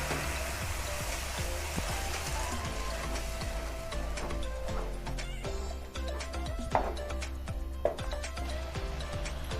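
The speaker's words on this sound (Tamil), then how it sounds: "தக்காளி சேர்த்து இதுவும் நல்லா ஃப்ரை ஆகணும்." Tomatoes fry in hot oil in a pan for rajma gravy, giving a steady crackling sizzle with scattered pops throughout and no voices.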